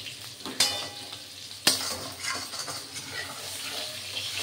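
Oil crackles and sizzles steadily as potatoes and eggplant fry in a pan, with a couple of sharp clinks of a utensil stirring against the metal.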